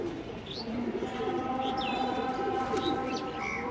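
Silver pigeons in cages coo softly in low, repeated murmurs, with a few higher chirps and whistles scattered across a steady indoor background.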